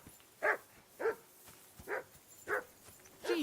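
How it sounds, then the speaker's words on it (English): A dog barks in the medieval role-playing game Kingdom Come: Deliverance II, five sharp, evenly spaced barks at moderate distance over quiet ambience. "Henry, that barking's driving me nuts."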